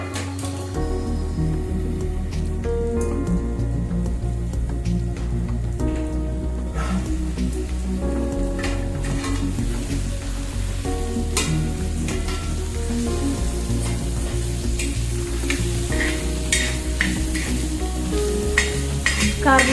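Bitter gourd steaming under a lid on an iron griddle gives a steady, close sizzle and hiss that continues without pause, with soft crackles and a few light ticks over it and no voices.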